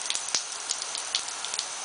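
Rain falls steadily, with a soft continuous hiss broken by faint scattered ticks of drops striking a surface, quiet and close.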